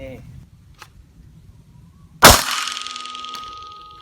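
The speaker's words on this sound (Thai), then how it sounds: "ผมจะลองยิงจริงเลยนะครับ" A single loud live gunshot from a pistol cracks out about halfway through, sharp and close, then rings off with a fading tail into near quiet.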